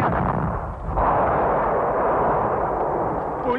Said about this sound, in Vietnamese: Tôi hiểu đó là trận pháo kích dọn đường, nhưng là của bên nào?